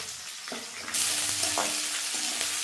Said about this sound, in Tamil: கருவேப்பிலை வெங்காயம் என்ன செய்யணும்? வதங்கணும். வெங்காயம் வதங்கட்டும்.